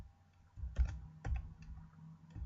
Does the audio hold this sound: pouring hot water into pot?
no